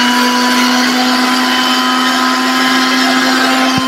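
A Miyako blender grinds cumin seeds into powder, running as a loud, steady, high-pitched motor whine with a grinding buzz that holds unbroken throughout.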